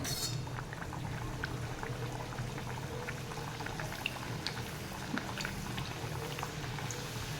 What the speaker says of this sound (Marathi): तेल तापलेलं आहे त्याच्यामध्ये आता आपण पुरी सोडूया